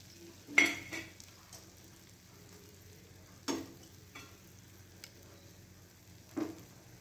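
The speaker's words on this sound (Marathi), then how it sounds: "आता आपण प्लेटमध्ये काढून घेऊया." Cooked spring onion greens are scraped from the pan onto a plate. Three distinct spatula scrapes and clinks stand out over a quiet background, with a few fainter taps between them.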